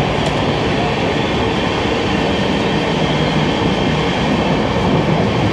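Himgiri Express passenger train running between Kolkata and Katra, a steady loud rumble of wheels and carriage noise throughout with faint rhythmic rail clatter, close and continuous.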